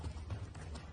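A horse's hooves clip-clop in a quiet, steady rhythm during a riding lesson, with soft repeated footfalls heard alone at moderate distance.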